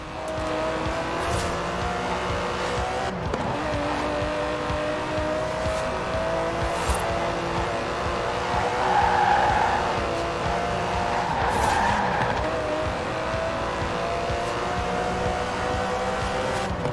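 Aston Martin DB11 with a 5.2-litre twin-turbo V12 in Forza Horizon 4 gameplay, its engine droning steadily at speed while tires squeal in brief bursts through corners.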